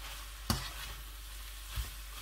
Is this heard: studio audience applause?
no